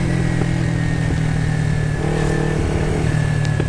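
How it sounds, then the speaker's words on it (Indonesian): A motorcycle engine runs and revs steadily at close range, a loud, continuous mid-pitched drone with slight surges and no voices over it. "tas dia nyalakan motor"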